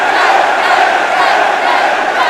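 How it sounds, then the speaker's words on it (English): Capacity wrestling arena crowd in Manchester roars for a tag team, a loud, continuous wall of cheering and applause heard up close without pauses. "Moustache Mountain soaking in the applause from this capacity crowd in Manchester."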